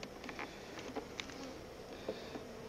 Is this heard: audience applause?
no